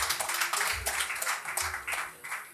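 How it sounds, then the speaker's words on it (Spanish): An audience at a live horror-story show applauds for a storyteller, with quick, slightly uneven clapping and a few dull low thumps running steadily throughout. "Fuerte aplauso para Dante."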